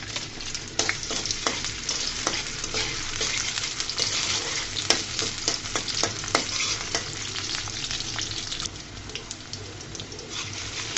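Chopped onions fry in soybean oil in a wok with a steady, close hiss of sizzling oil and constant crackling pops, running unbroken and without talk.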